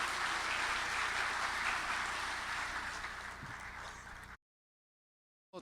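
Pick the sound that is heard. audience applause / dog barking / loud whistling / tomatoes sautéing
audience applause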